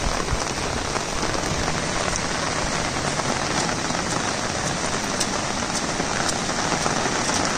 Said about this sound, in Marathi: किती पाऊस पडला.